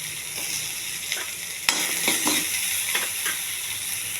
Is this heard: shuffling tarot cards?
no